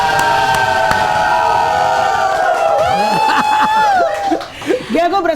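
Studio audience cheering and whooping with laughter for a guest on an Indonesian talk show, a loud sustained crowd swell with a host's voice over it that thins out toward the end.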